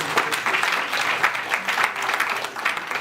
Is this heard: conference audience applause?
yes